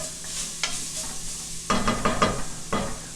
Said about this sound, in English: And now we're gonna add 4 cloves of garlic.